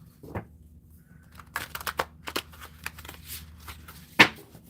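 Tarot cards riffle and slap in a quick series of shuffles, with soft rustling between bursts and a sharp snap near the end.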